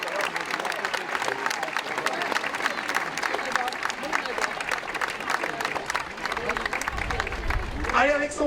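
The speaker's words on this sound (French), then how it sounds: "Mesdames, Mesdemoiselles, Messieurs, applaudissements pour notre parrain Daniel Van Guiten avec nous cet après-midi." Stadium crowd applauding steadily for the guest of honour at a men's youth football tournament final, Saint-Etienne versus Nantes, dense clapping sustained throughout with a public-address voice over it.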